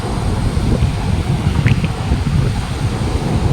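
Steady wind buffets the microphone while waves roll and wash in the background at a beach in Sattahip, Chonburi, Thailand, a constant dense rumble with no voices.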